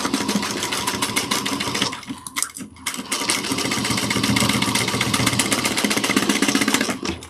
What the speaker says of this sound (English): And I'm going to sew this down using the ½ inch seam allowance.